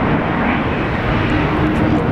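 A Velocity jet airliner powers up for takeoff at Brisbane International Airport in a slight quartering crosswind, a loud steady broadband engine roar filling the moment with no talk over it.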